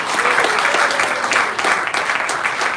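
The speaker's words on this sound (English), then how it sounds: "just a quick round of applause for Paul" Audience at a Hereford FC fans' forum gives a quick round of applause, steady close clapping from a roomful of people with a faint voice mixed in.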